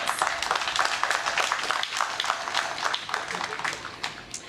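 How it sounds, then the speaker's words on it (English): An audience at a law school plaque unveiling ceremony gives a round of applause, a fairly soft, dense patter of many hands clapping that continues steadily throughout. "Please give them a round of applause for their commitment to the cause."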